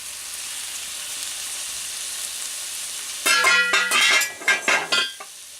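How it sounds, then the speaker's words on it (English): Minced grass-fed steak drops into a hot pan after a quiet stretch and breaks into a loud, close sizzle that surges in several bursts, then comes in shorter spurts. "So let's go and fry it."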